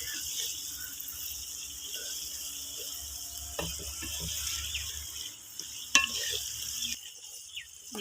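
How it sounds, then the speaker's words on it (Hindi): Crushed red chili, turmeric and salt frying in a pot for a village-style drumstick and potato curry, a low steady sizzle with a few soft scraping stirs and clinks, fairly faint under a background hum. "ये तो उन सारे मसालों को अच्छी तरह भून लेंगे पहले।"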